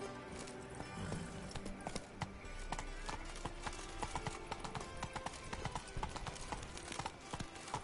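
A horse gallops in The Witcher 3, its hooves clip-clopping in a steady rapid rhythm close by over a background of ambient game sound, with faint movement noise throughout.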